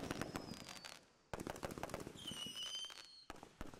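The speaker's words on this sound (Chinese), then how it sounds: "准备了一个电子烟花" An electronic fireworks toy gives rapid crackling bursts and sharp pops with whistling tones over them. It falls quiet briefly twice, then resumes at a fairly close, moderate loudness.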